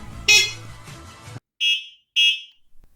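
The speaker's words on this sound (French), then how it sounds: "le même klaxon qu'on voit sur la plupart des trottinettes chinoises" Two short, bright electronic horn beeps from a Teverun Fighter 11 electric scooter, loud and close indoors, following a burst of handling noise and mechanical clatter.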